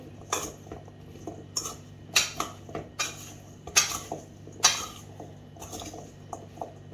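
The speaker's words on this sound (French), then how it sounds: "On y va, on mélange bien pour avoir des épices de partout." Potatoes tossed with spices and olive oil in a dish, a spoon clinking and scraping against the dish in irregular bursts with soft squishy mixing between, close and fairly loud over a faint steady hum.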